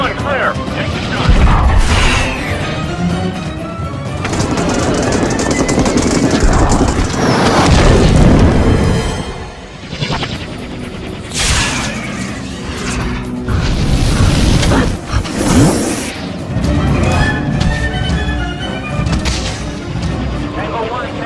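Hellfire missile strikes in a helicopter combat video game: repeated heavy booms and crashing impacts amid mechanical rumble, loud and near, with voices talking over the action.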